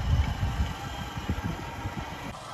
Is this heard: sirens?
no